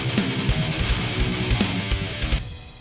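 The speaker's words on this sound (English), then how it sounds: "I kind of like the idea of doing like a palm muted, chunkier version of it" Chunky palm-muted electric guitar riff in a metal style, with tight, clipped, rhythmic chugs that stop abruptly near the end, played over a drum groove.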